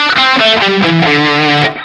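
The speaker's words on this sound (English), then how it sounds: "I don't have enough distortion on this, and I'm also using a Strat" A distorted electric guitar, a Fender Stratocaster, rings out loud and close, playing a short sustained run of chords through a heavily overdriven tone.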